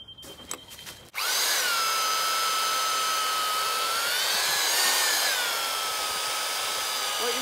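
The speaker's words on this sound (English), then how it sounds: "I will then get my drill with 25mm drill bit in and push some holes through there" After a short rustle, a DeWalt power drill with a 25mm speed bit whines steadily into wood, a loud continuous high-pitched grinding that holds for several seconds.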